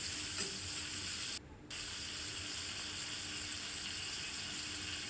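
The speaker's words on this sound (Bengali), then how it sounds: "দিয়ে দিলাম সামান্য পরিমাণ হলুদের গুঁড়ো, দিয়ে ভালো করে নেড়ে চেড়ে মাছগুলোকে আমি ভেজে তুলে রাখবো।" Pieces of fish fry in a pan with salt and turmeric powder, giving a steady hiss of sizzling oil with faint scraping as they are stirred around, quiet and close with no talking.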